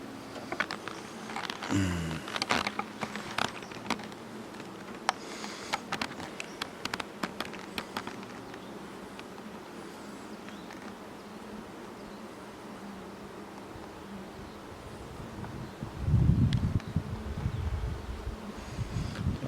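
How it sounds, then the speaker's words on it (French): A soft, continuous buzzing hum of honeybees fanning their wings inside an open hive, close by, with some rustling and tapping at the start and a low thump later. "les deux abeilles ici, leurs ailes battent vite, vite, vite"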